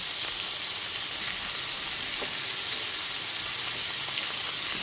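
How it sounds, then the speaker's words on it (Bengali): Chopped, washed banana stem hits a hot pan and sets off a bright, continuous sizzle that hisses loudly throughout, with a few faint stirring clinks underneath and no speech. "এইবার দিয়ে দিচ্ছি কেটে ধুয়ে রাখা থোরগুলো।"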